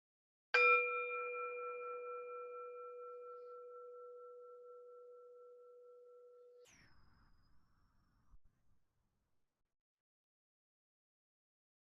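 A single clear bell strike rings out and hums for several seconds, slowly fading before being damped, followed by a few faint soft knocks.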